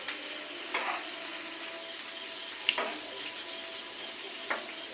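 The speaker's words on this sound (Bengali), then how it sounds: "পেঁয়াজগুলো হালকা ভাজি ভাজি হয়ে আসলে তারপরে টমেটো দেবো" Onions frying in a pan before tomatoes go in: a steady soft sizzle with a few brief stirring scrapes breaking through, close and moderately quiet, no talking.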